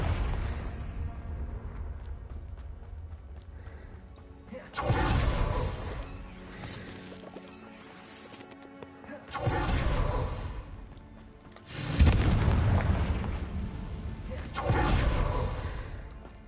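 Confringo blasting spells in the Hogwarts Legacy video game go off as four loud explosive whooshing bursts, spaced a few seconds apart, each followed by a fading rumble over quieter background ambience.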